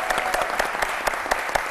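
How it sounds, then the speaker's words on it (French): Applause from a television studio audience on a midday talk show set, a steady dense patter of many hands clapping with some louder claps standing out, loud and close throughout. "M. Sanogo Ladji, que je vous demande d'applaudir."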